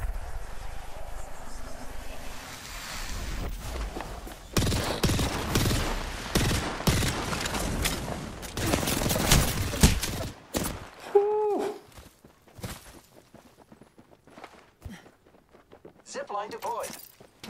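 Bursts of rapid gunfire in the battle royale shooter Apex Legends, dense volleys of shots for several seconds followed by scattered single cracks and footsteps, with a player talking over the action.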